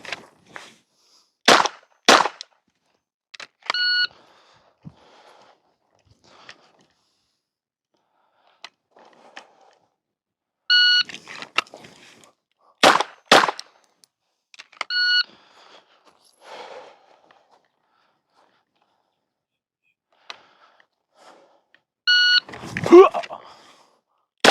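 Electronic shot timer beeps sound three times across a pistol drill stage, each followed by sharp, loud handgun shots, with pairs of reports at close range, bursts of louder gunfire and short gaps of quiet between strings.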